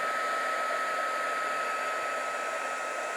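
A hair dryer blows steadily to dry paint on a glass piece being prepared for laser engraving, a loud, close, even whine with no pauses or talk.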